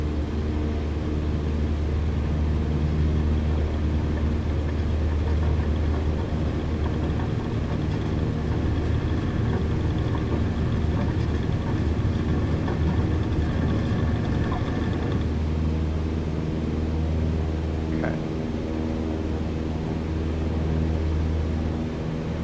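Steady aircraft engine drone from Microsoft Flight Simulator 2020 during an ILS procedure-turn approach to landing in bad weather, a continuous loud hum with faint tonal whine, no talk.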